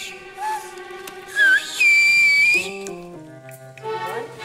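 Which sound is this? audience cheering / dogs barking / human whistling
human whistling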